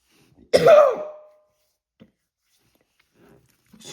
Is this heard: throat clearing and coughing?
yes